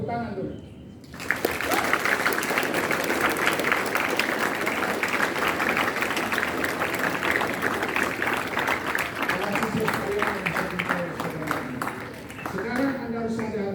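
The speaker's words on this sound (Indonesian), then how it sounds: "Tepuk tangan dulu." Students at a Monday flag ceremony at a school in Makassar clap loudly for about twelve seconds. The applause is sustained and dense, and it fades as a voice resumes speaking.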